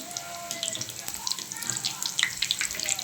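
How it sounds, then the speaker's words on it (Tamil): Bonda sizzle in hot oil with a steady frying hiss and small pops, moderately close, while a voice talks faintly over the cooking. "இது நல்லா ஃப்ரை ஆகட்டும் எண்ணெயில்."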